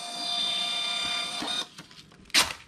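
A Gprinter 5890XII thermal printer printing a receipt, a steady close whirring buzz for about a second and a half, then a pause and a brief sharp tearing rasp.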